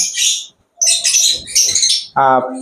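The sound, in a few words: pet bird chirping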